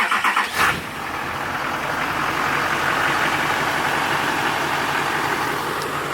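A Duramax diesel dually pickup truck cranks briefly and fires up, then settles into a steady, loud, rumbling idle nearby.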